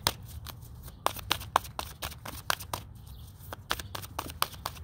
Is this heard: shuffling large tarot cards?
yes